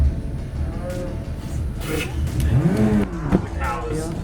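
Cattle moo in a low drawn-out call, heard mixed with the engine of a racing simulator's supercar and a voice, the moo rising near the middle of the clip.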